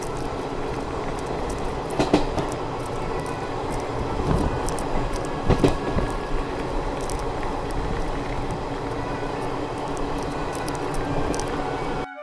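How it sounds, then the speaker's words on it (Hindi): A train rolls slowly along a rail route in Rajasthan, giving a steady, loud rumble with occasional clanks and wheel knocks over about twelve seconds, alone without talk. "पर ट्रेन की रफ्तार बहुत स्लो है"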